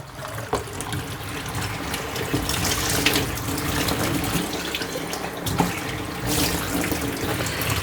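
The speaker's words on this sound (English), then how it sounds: "I'm going to have to set it down into the sink for now, but and we'll just rinse this out and dump it into the tray." Tap water runs continuously into a sink as wheatgrass seeds are rinsed, a steady splashing stream with occasional knocks and clatter, no voices.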